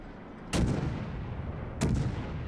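Naval guns in World of Warships fire two heavy booming salvos about a second apart, each a sudden loud blast trailing into a long rumbling decay, no talking.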